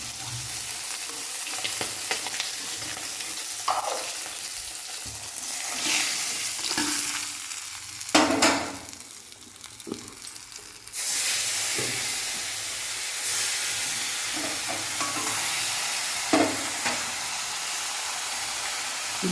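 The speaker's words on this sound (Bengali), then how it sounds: "বাকি মাছগুলো ভেজে নিচ্ছি, আর দুটো আছে।" Bhola fish frying in a pan of oil, a steady close sizzle and hiss with scattered spatters, stirring scrapes and a brief lull midway before the frying noise swells back.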